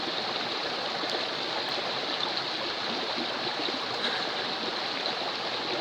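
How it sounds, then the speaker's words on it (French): Water running steadily from a filter water bottle, a continuous close trickle and stream with no pauses and no voices over it. "Le débit est très bon pour un filtre. Ça coule sans problème."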